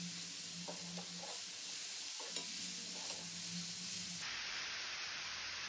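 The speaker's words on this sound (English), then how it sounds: "Stir until soft." Spinach (palak) being stirred in a pan with turmeric, cumin and red chili powder, giving a steady frying sizzle with a few soft scraping strokes, close and moderately loud with no talking.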